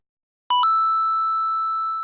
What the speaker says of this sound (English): Last time we made the coin sound like this.